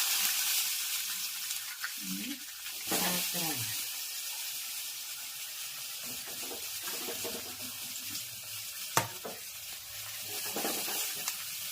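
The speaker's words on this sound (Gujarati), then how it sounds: "સરસ મજાના પાત્રા વઘાર શરૂ થઈ ગયો છે, આપ જોઈ શકો છો. જીરું અને સફેદ તલ" Cumin seeds and white sesame sizzle in hot oil as a tempering for patra, a steady crackling hiss with a few stirring knocks and a sharp click partway through.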